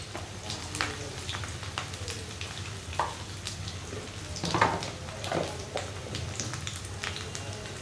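Onion and green chili fry in a pan, sizzling steadily with crackles and occasional louder pops and stirring scrapes, close and moderately quiet, with no speech.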